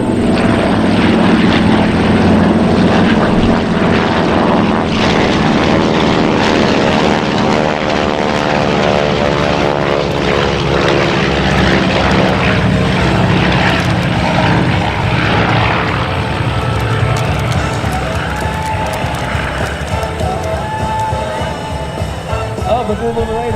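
A B-25 bomber and two T-6/SNJ trainer planes fly at the 2017 Northeastern Pennsylvania airshow, their radial piston engines making a loud, steady propeller roar that drones on without a break while an announcer talks over it.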